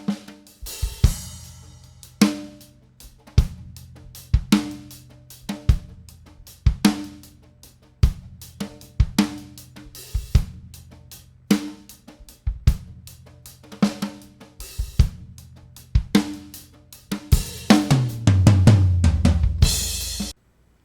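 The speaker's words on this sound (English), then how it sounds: "there's a fader that can be used to widen or narrow the stereo field" A drum recording passed through the Ozone 6 imager for stereo widening: punchy kick and snare hits land in a steady, evenly spaced beat, building to a denser burst of cymbal wash near the end.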